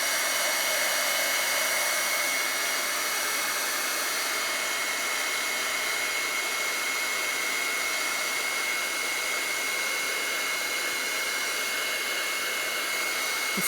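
Heat gun blowing steadily to melt embossing powder on vellum for a stained glass card, a continuous close, even hiss of rushing air with no talking.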